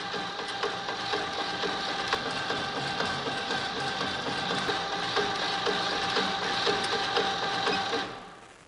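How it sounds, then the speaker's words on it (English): Remote-controlled aquatic weed cutter harvester running its vertical sickle cutter together with the horizontal sickle, a steady close mechanical clatter and whir that holds evenly for about eight seconds before cutting off. "And now I'm going to run the vertical sickle in unison."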